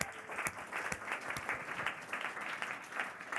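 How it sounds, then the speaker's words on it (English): An audience at a live onstage conversation event applauds, a moderately distant, continuous patter of clapping with individual sharp claps standing out. "Let's give David a big round of applause."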